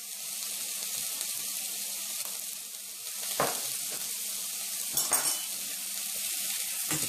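A sandwich cooks in a pan, a steady soft sizzle of frying running throughout, with a few brief louder clatters of handling or seasoning; no one speaks.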